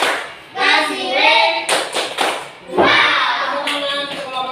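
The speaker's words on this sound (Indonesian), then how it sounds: "Tepuk tangan untuk kelompok 1." Elementary school students in an Indonesian classroom applaud a presenting group, bursts of lively clapping mixed with children's voices and cheering, loud and close, rising and fading in waves.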